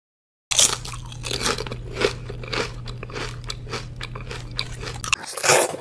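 Doritos corn chips being bitten and chewed close up, with loud, repeated crisp crunches in a fast uneven rhythm over about five seconds.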